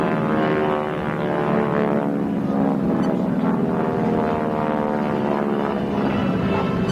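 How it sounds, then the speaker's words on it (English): Air show aircraft in diamond formation roar overhead as two pull up into a loop, a loud, continuous droning propeller engine sound that swells and wavers. "Two outside aircraft pull up into a loop, corner roll on the downside, and our other 4 aircraft remain in the diamond formation."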